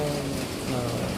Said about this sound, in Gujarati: વરસાદના ટીપાનો જે અવાજ છે એ એકદમ કુદરતી અવાજ છે